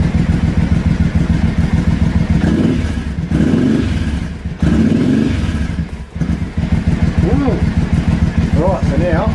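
A Triumph America motorcycle fitted with a booster plug runs close by, its engine rumbling steadily and rising in revs, while someone talks over it.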